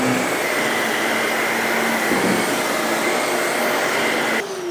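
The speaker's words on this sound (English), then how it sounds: "So now we can just use it as our traditional vacuum here." A Shark Navigator Lift Away Deluxe upright vacuum cleaner runs in upright mode with its brush rollers turning, giving a loud, steady, close-up motor whine and airflow roar that shifts briefly near the end.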